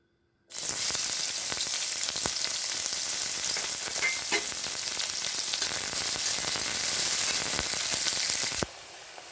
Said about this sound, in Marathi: आता हे तेल गरम झाल्याच्या नंतर आपण ह्याच्यात कांदा घालत आहोत.